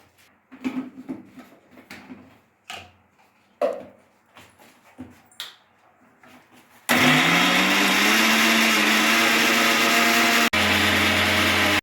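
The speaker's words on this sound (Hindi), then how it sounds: "ऐसे ही फिश करी के लिए हम इसको पीस के मसाला बनाएंगे।" Mixer grinder grinding masala with coriander for a ribbon fish curry, starting abruptly after scattered kitchen clatter as a loud, steady whirring motor roar that dips briefly near the end before resuming.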